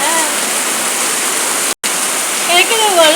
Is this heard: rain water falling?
yes